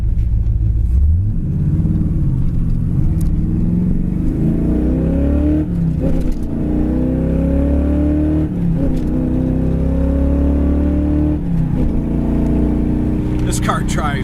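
A 1979 Chevrolet Camaro Z28 V8 accelerates through the gears, engine pitch climbing and dropping at each of several upshifts, loud and close from inside the car with no talk over it.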